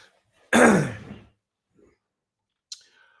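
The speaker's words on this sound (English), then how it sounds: "Cough attack." One harsh, loud cough or throat-clearing burst that trails off, then faint small sounds and a short click-like catch a moment later, with no talking.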